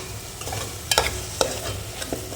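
Brinjal and green chili sauté in oil, a soft continuous sizzle broken by a few sharp scraping clinks of a spoon stirring against the pan.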